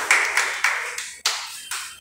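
A few sharp claps sound in quick succession in a hall as a guest is called onto the stage at a book release event, close and fairly loud and only about two seconds long.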